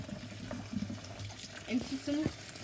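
Water splashes and trickles into a sink or basin as cooked noodles are poured into cold water, pouring unevenly for a couple of seconds against faint background noise.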